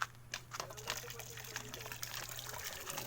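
Clear water flowing from a newly attached pump, a steady trickling, splashing stream under a constant low hum, with a voice talking over it.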